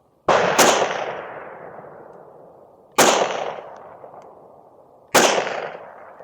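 Three sharp, loud 9mm Walther pistol shots ring out a few seconds apart outdoors, each crack trailing off in a long echo, with no talking.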